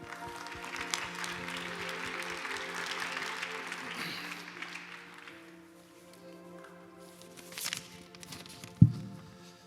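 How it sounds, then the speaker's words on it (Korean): Church service audience applauding to welcome a speaker, clapping that fades over the first few seconds, followed by footsteps, a thump and quiet room noise. "우리 박수로 맞이해 주시기 바랍니다"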